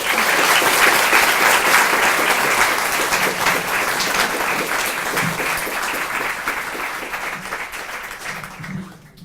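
Sustained, loud applause from an audience at an evening talk welcoming former New Zealand prime minister Helen Clark, steady for most of nine seconds before tapering off.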